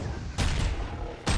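Gunfire in a video game, two loud bursts of shots over a noisy, continuous background, close and harsh.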